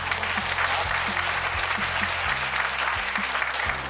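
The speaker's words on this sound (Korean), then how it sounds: "다시 한번 박수" Audience applause in a high school auditorium after a humanities reading and debate event, a steady dense wash of clapping sustained throughout, with low rumbling thumps beneath.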